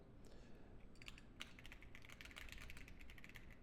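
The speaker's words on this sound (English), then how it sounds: "Sorry about my typing." Continuous rapid typing on a computer keyboard, steady clatter of many keystrokes at close range with a background hum, no voices.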